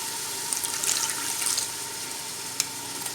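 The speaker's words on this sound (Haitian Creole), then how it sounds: "Je vais mettre un petit de l'eau" Water is poured into a pot of beef for Haitian bouillon, bringing a bright sizzling hiss and splashing that swells and fades. A sharp click follows near the end.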